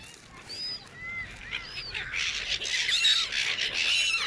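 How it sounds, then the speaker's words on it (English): Seagulls being fed squawk in repeated sharp, high calls, close by and growing busier and louder toward the end, with a faint rushing background beneath. "Fun to be with the seagulls."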